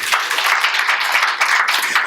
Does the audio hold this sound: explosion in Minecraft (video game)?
no